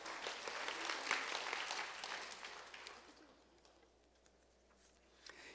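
A church congregation at a Sunday night evangelism testimony service at Daejeon Jungbu Church bursts into dense applause that tapers off after about three seconds, leaving a quiet hall with a few scattered claps near the end.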